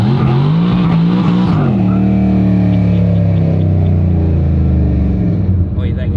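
Ford GT90 quad-turbo V12 revving hard during a burnout, a loud, sustained engine roar that climbs and holds in pitch with rising harmonics, with possible tire noise.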